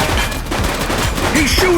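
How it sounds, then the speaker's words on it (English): Dense gunfire during a police shootout in the video game The Precinct, a loud, continuous fusillade of overlapping shots with a brief whistle-like tone near the end. "He's shooting!"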